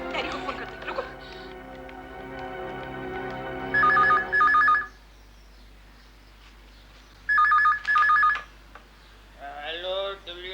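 A telephone rings in two loud double-burst rings after a call is placed to dad, with a held tone and voices before them and speech at the end.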